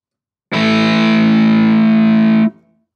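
A single sustained chord rings out from an electric guitar played through a heavily distorted Amplitube 4 amp setting, loud and thick for about two seconds before cutting off abruptly.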